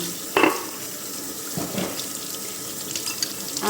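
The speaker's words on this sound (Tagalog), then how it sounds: "Maingay ba yung tubig?" Water runs steadily from a tap into a sink, a continuous hiss close by, with a brief clatter near the start.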